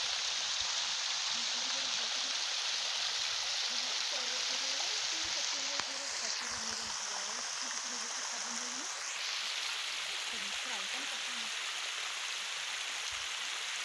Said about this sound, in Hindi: अगर ज़्यादा पानी भर जाएगा तो ये इस तरह से पानी नीचे की तरफ गिर रहा है।